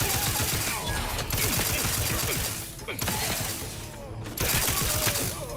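Gunfire in The Outer Worlds 2 video game, rapid loud automatic bursts crackling in long volleys with brief gaps between them, close and harsh.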